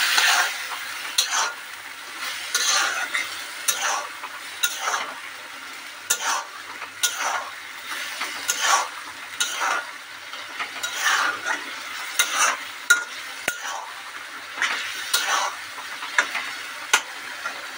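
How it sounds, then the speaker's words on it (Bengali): Meat masala is stirred in a pan, giving repeated soft scraping and rubbing strokes in an uneven rhythm, with light clinks of the utensil against the pan and faint sizzling underneath. No one speaks. "দিয়ে এটাকে ভালো করে নাড়তে হবে।"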